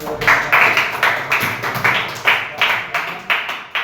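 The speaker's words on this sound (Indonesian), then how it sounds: "Oke, tepuk tangan." A classroom group claps in a steady, even rhythm, each clap sharp and fairly close, repeating about three times per second.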